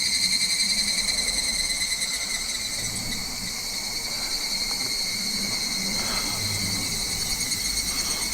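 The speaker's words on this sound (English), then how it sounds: "So that's got to be some kind of cicada that I haven't heard before." Insects, a cicada near Magome-juku and Tsumago, keep up a steady, high pulsing drone of several layered tones that runs unbroken throughout, with faint low background noise beneath.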